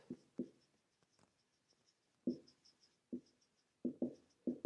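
Chalk or marker strokes of someone writing out an equation on a board, a series of short scratchy taps and strokes in irregular bursts, close and fairly quiet, no voices.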